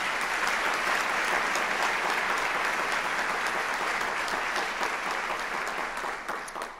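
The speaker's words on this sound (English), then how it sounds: "could you please just give them a round of applause on my behalf?" A large audience at an optometry college convocation gives a sustained round of applause, dense and steady throughout before thinning slightly at the very end.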